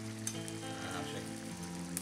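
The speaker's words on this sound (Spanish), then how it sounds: "Pues freír un poquito media guindilla." Half a dried chili pepper frying in oil in a pan, a quiet, steady crackling sizzle throughout, close and alone with no talking.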